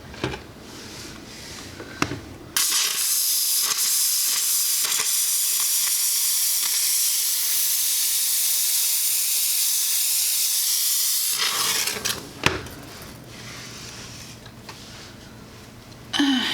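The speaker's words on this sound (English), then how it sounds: "So obviously steaming your grout is not a bad idea" A steam cleaner blasts a steady, loud hiss against grimy bathroom tile grout for about nine seconds, with scrubbing and clatter before and after the continuous jet.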